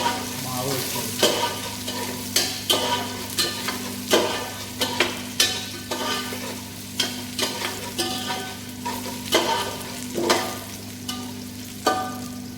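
Shallots frying in oil in a pan while making kalathappam, a continuous close sizzle broken by repeated scraping stirs at irregular intervals.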